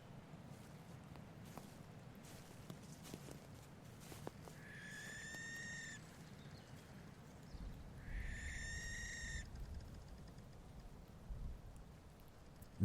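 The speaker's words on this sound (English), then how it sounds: "as we go into the grasslands where the barn owl resides." A barn owl in grassland at night gives two harsh, drawn-out screeches a few seconds apart, moderately near, over a low rumbling background.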